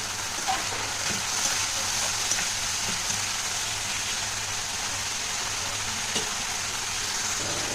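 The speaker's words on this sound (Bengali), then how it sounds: "তো এবার ভালো করে আবার একটু কষিয়ে নেব।" Spice paste of cumin powder and Kashmiri chilli powder sizzles steadily in hot oil, sautéed for a fish jhal. The loud, even frying hiss runs without a break and no one speaks.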